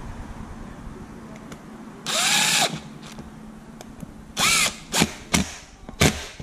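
A handheld power drill drives screws on an Arrma Infraction V2 RC car being converted to GT with a motor mount, giving several short whirring bursts, one longer then three quick ones, close and loud with no talk.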